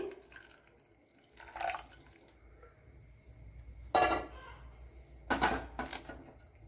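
Melted jaggery syrup poured into a pot while making ada pradhaman, heard as a few brief, soft liquid splashes and drips scattered over a quiet background.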